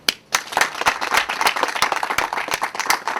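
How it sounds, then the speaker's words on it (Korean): A group of soldiers clapping together in a quick, steady burst of dense, sharp hand claps, loud and close, after a short pause at the start. "박수."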